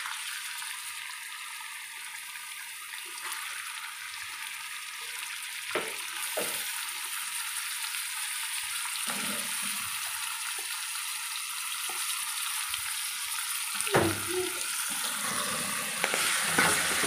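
Ground pork fries in a pan with a steady, close sizzle throughout and occasional soft clinks and scrapes of stirring. No one talks.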